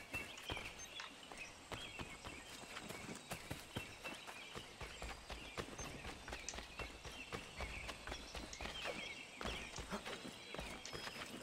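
Horse hooves clip-clop in the video game Assassin's Creed III, a fast, steady run of sharp hoof strikes continuing throughout at a moderate, close-up level, with faint game ambience underneath.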